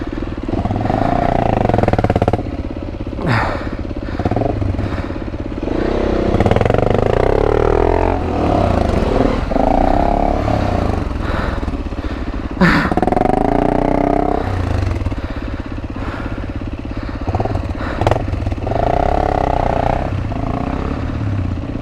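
Beta 390 RR enduro motorcycle riding off-road through woodland, engine revving up and down in repeated bursts close to the microphone, with throttle blips and clattering over rough ground throughout.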